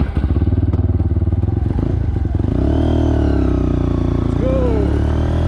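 A Lexmoto LXR 125 motorcycle runs steadily close by as it is ridden, a loud continuous engine drone with a rapid pulsing beat early on that smooths into an even hum, with wind and road noise throughout.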